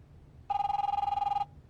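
A telephone bell rings once in The Wolf Among Us, a single clear electronic trill lasting about a second, fairly faint over a quiet background.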